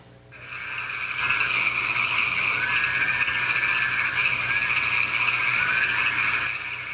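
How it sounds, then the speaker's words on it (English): Frogs croak at night in St. George, Utah, a dense, steady chorus of overlapping trilling calls that swells in and holds for several seconds. "I want to play you the sounds of the frogs in St. George, Utah."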